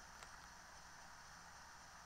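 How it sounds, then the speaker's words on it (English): Game rain in Harvest Moon 3D: A New Beginning on the 3DS, a soft, even hiss of steady rainfall, faint and continuous with no talk over it. "Even in real life, listening to the rain is relaxing."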